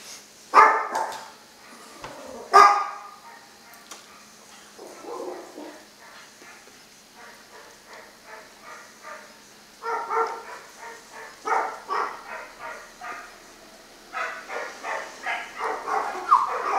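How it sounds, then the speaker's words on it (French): A dog barks in bursts, first a few sharp barks, then quicker volleys of yipping barks, moderately close. "Je sais pas qui c'est qui passe, mais mon chien il est excité."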